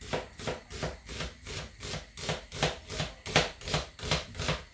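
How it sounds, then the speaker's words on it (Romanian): A knife chops an onion finely on a board in a quick, steady rhythm of about twenty close, crisp strokes, clear and alone with no talk. "Vom pune ulei și vom tăia ceapa mărunt."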